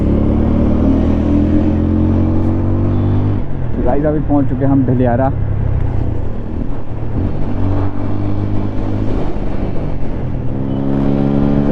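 Two motorcycles, a Pulsar RS 200 and an Apache RTR 200, ride along a wet, winding road with sharp corners, their engines droning steadily and loudly throughout while someone talks over them.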